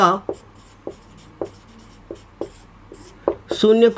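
Handwritten strokes set down a heading during a Class 10 maths lesson on polynomials: a steady series of short, distinct scratches at regular intervals, followed by a brief louder burst of voice at the end.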